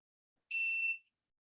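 A diamond tester gives a single short, high electronic beep while checking stones set in sterling jewelry, clear and isolated in silence.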